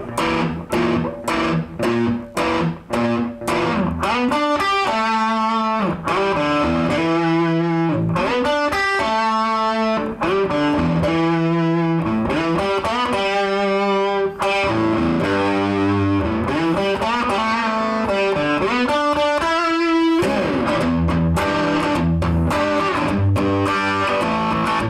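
Distorted electric guitar plays the opening riff, loud and continuous, with sharp repeated opening notes giving way to a driving, sustained riff and chords throughout.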